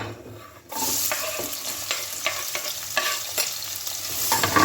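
Loud hiss as onions hit hot oil with cinnamon, cloves and cardamom, then steady sizzling with regular scraping strokes of stirring in the pan.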